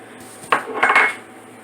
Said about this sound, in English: you want to keep stirring because you do not want your cheese to stick to the bottom of your pan